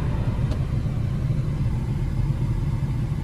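A manual-transmission car engine idles steadily with a low, continuous rumble, close by and fairly loud, with no voices over it.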